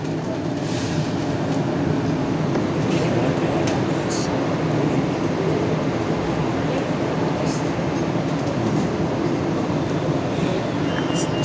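A London Underground train runs steadily on the Jubilee line, a loud, continuous rumble and roar with rail clatter and occasional high squeals, heard up close from inside the carriage with no pauses.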